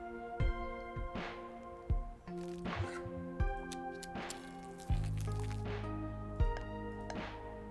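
Soft squishy drips and splashes from watering plants in a cozy gardening video game, arriving as a handful of separate hits over gentle tonal game music.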